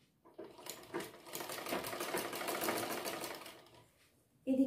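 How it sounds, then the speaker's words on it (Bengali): A sewing machine runs steadily while stitching the curved neckline of a bra-cut blouse, its close, rapid needle clatter slowly building in speed and then easing off to a stop, with a brief click at the end. "আস্তে আস্তে আমরা ঘুরিয়ে ঘুরিয়ে সেলাই করে দেব"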